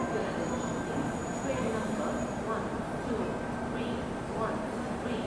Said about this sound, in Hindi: डिब्रूगढ़ राजधानी का यहाँ डिपार्चर हो चुका है